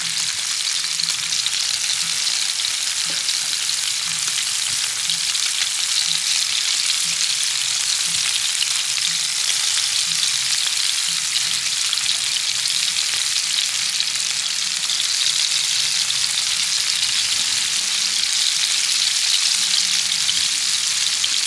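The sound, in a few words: scallops frying in oil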